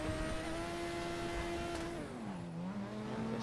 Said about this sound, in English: it's a proper sound for a race car like that, for a F1 car like that